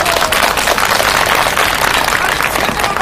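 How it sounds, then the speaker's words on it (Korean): Applause from a crowd at an outdoor redevelopment protest rally in Seoul, a dense, loud, continuous clapping that holds steady throughout with no speech. "힘찬 박수 부탁드립니다"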